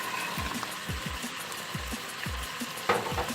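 Peas fry in a pan for a simple Turkish pea dish, giving a soft continuous sizzle. Repeated low scraping strokes of stirring run through it at a fairly regular pace.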